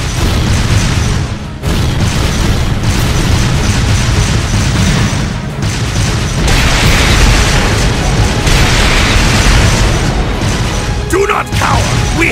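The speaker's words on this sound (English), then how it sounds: "Left flank, fire a barrage to cover your retreat!" An artillery barrage in the Trails of Cold Steel II battle at Heimdallr, heavy booming explosions rumbling continuously and loudly with a few short gaps between volleys.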